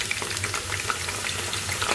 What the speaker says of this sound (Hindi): अब हम सेम ऑयल में 1 by 1 पोटैटोस फ्राई कर देंगे।